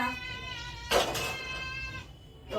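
A house cat meows in one long, drawn-out, wavering call, fairly faint and close, with a brief noisy rustle partway through and no talking.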